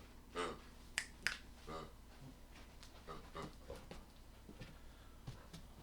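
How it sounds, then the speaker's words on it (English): A dog playing with a new toy at home, heard as scattered soft panting, snuffling, and sharp clicks or squeaks in quick bursts, fairly close and quiet, with no talk over it. "The dog has a new toy, so he's playing with that."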